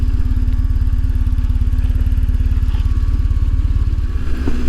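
A BMW R1150 GS motorcycle is ridden with its boxer engine thrumming in a loud, steady, close low pulse at an even pace that shifts slightly near the end, and no one speaks.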